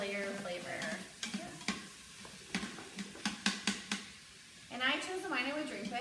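Tomato paste and wine stirred in a pressure cooker for short ribs, with a series of sharp scraping clicks and a soft sizzle, interrupted by someone talking at the start and end.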